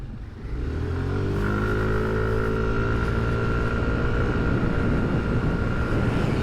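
A 2025 Yamaha NMAX scooter pulls away from traffic lights, its engine note climbing steadily in pitch as it accelerates, loud and close with continuous drone and wind.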